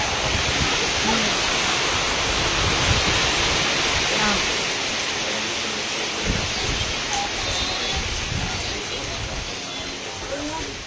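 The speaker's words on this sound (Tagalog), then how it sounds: "Isol, nag-ulan na naman." Heavy rain pours in a continuous broadband roar for about eleven seconds, close and even in loudness, with faint scattered chirps in the background.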